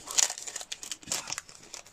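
Plastic-wrapped packet being torn open by hand, a quick burst of close crinkling and rustling plastic with small irregular crackles, no voices.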